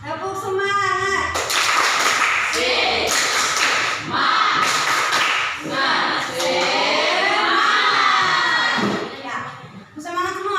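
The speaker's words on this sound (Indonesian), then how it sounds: "Tepuk semangat" A classroom of children doing a rhythmic clapping chant, loud sharp claps in patterned bursts mixed with children shouting the chant together, energetic and close.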